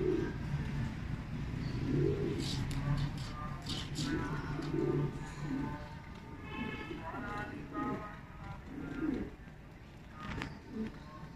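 Newly bought racing pigeons give soft, low, repeated cooing calls in a steady rhythm close by, with faint chirps from other birds and light rustling in the background.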